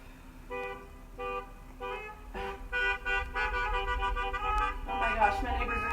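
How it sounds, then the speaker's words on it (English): Car horns honking repeatedly from a drive-by birthday celebration passing outside a home, a series of loud tonal toots in short bursts and longer overlapping blasts from several vehicles. "my neighbors are having a drive-by honking"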